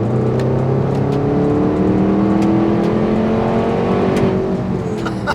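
A Range Rover SVR engine rumbles and hums steadily at close range, with a deep exhaust drone and slight pitch shifts, no voices over it.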